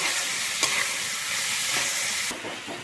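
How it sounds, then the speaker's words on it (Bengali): Potatoes and peas stirred and fried in mustard oil in a kadai for Bengali ghugni, a steady loud sizzle with a few scraping stir strokes, the hiss dropping slightly near the end. "একেবারে খুব ভালোভাবে ভেজে নেব।"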